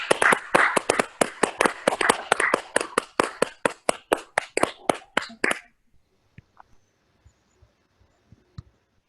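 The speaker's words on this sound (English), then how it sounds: "big round of applause." Audience at a library poetry reading bursts into loud, dense clapping for about five and a half seconds, then trails off into a few scattered late claps in a quiet room.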